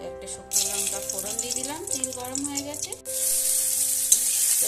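Green chillies fry in mustard oil with a bright hissing sizzle that swells after a half-second pause and keeps going, while a voice talks over the first half.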